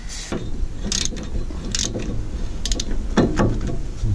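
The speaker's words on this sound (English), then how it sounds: "So let's see if we can get our 10mm socket on there." A ratchet with a 10mm socket clicks in short bursts while undoing fuel filler neck nuts under a car chassis, the sharp pawl rattles close and irregular over a low background.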